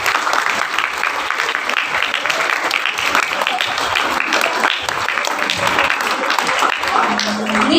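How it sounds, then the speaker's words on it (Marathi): An audience at a school choral recitation event bursts into loud, sustained applause, dense clapping that runs throughout with a few voices mixed in. "चला ब्लू हाऊसला त्यांच्या हृदयस्पर्श साजरे करण्यासाठी टाळ्यांचा एक जल्लोष करूया."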